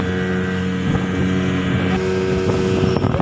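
Speedboat ride on Telaga Sarangan lake in Magetan, East Java: a steady, loud engine drone with a constant low hum and rushing water wash running throughout, no voices.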